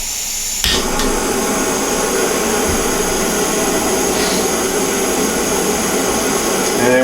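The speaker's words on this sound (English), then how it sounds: "You'll hear the fuel come out." A backpacking gas stove burner is lit with a sharp click, then roars loudly and steadily in a continuous close hiss that holds unchanged through the rest of the clip.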